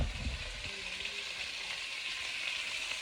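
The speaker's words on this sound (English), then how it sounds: "I'm going to brown them in the pot" Braciole and sausages brown in a pot with a steady, even sizzle and a few soft low knocks at the start, continuous throughout with no talking.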